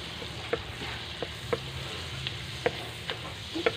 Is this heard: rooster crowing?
no